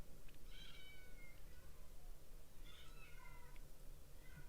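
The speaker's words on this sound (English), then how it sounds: "You hear the kitty squealing over there?" A kitten squeals and meows in two bursts of high cries, faint and a little distant over a steady low hum.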